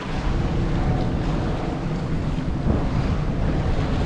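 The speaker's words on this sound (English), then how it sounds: "I got the big waves coming." Big ocean waves rolling onto a beach, a steady loud wash of surf with wind buffeting the microphone, continuous and close with no talk.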